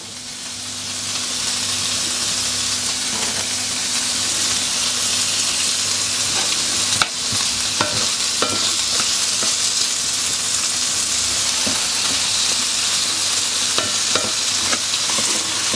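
Bacon fries with vegetables and potatoes in a pan, giving a continuous bright sizzle close up, with occasional sharp clicks and scrapes of stirring, no voices.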